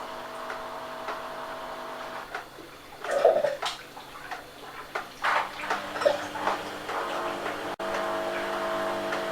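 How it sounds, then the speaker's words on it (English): Wet sloshing and swirling from home-brew Coopers IPA wort being stirred in a fermenter comes in uneven, close surges with faint clinks. "Get everything good and stirred up."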